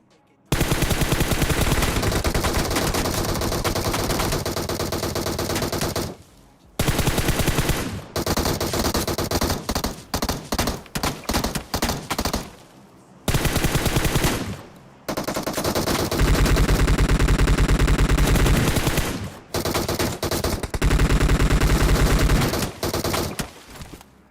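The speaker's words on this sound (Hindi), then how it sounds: "और यहाँ पर प्री फायर देख रहे हो" Bursts of video game gunfire with DP, AKM and M16 rifles, loud sustained automatic fire in long volleys separated by short pauses, heavy and close throughout.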